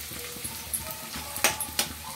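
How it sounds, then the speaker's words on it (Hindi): Ingredients for momo filling fry lightly in a pan, giving a soft, even sizzle with a few faint clicks and taps from the cookware. "हल्का सा फ्राई हो जाएगा"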